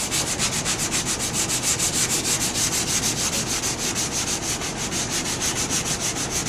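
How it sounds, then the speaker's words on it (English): Steady rhythmic sanding of the wooden cabinet of a Zenith 8-S-536 radio being refinished, rubbing back and forth around a curved radius, close and continuous with no talk. "I start to sand around the radius right here."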